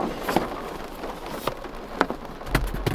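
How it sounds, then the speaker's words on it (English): Rain drums on a car's roof and windows during a storm, a steady close patter broken by sharper louder drops and splats at irregular moments, heard from inside the car with no talking. "It's raining outside."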